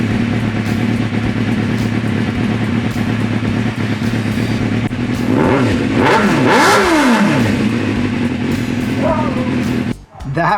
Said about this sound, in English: That was about a 10K rev, and my God, that was actually pretty loud.